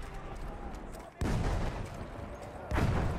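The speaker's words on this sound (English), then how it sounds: "I hear explosions" Distant explosions and gunfire in the video game Battlefield 1 boom twice over a steady rumbling backdrop of battle noise, muffled and fairly faint.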